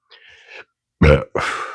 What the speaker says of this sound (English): Excuse me, pepper burp.